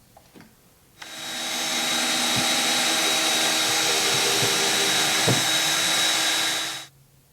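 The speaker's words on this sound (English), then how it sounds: "I'll drill some pilot holes so that the screws can maybe bite a little bit better" A power drill boring pilot holes for drywall screws while building a Seadoo Spark kart steering system: a steady loud whine that starts abruptly, holds for about six seconds with occasional knocks, then cuts off.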